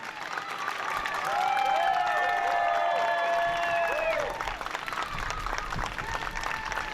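An audience at the 2019 Mascot Hall of Fame induction ceremony in Whiting, Indiana claps and cheers for the four inductees, steady applause with bright whistle-like tones rising over it midway before easing off.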